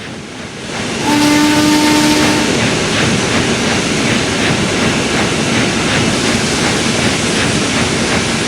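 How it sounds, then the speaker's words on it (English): A steam locomotive whistle in a train simulator game sounds one long steady blast over a constant loud hiss of steam and rumbling engine noise. "give a big hello by sounding your whistle when"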